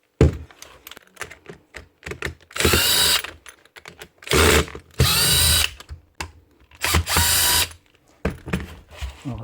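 A Hikoki cordless drill with a stripped gearbox gear runs in four short bursts of loud, rattly whirring, separated by clicks and handling noise, close up.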